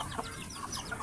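Farmyard chickens cluck in short, repeated bursts around a rural home kitchen, fairly close and steady across the moment, with no talking over them.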